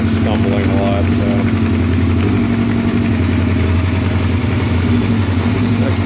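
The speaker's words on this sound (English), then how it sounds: "just how flat the idle is, and it's kind of stumbling a lot." A Honda CB700SC motorcycle engine with running issues idles flat and uneven, a continuous close, loud low drone that stumbles and wavers throughout.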